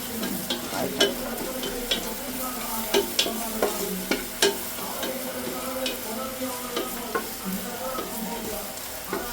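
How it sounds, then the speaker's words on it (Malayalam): Onions and green chillies sauté with spices in a hot pan, a steady close sizzle broken by repeated scraping stirs and occasional spoon taps, with no voices. "മസാലകൾ വഴന്ന് കഴിയുമ്പോഴേക്കും സവോളയും"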